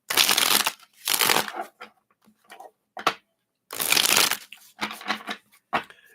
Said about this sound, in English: And then shuffle them 3 times this way.